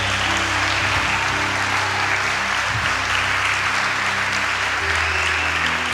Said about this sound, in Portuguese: Você pode aplaudir a Jesus por causa dessa vida?